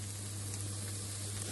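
Soaked aubergine slices fry in a little oil in a frying pan, a steady soft sizzle heard close and quiet over a low electrical hum.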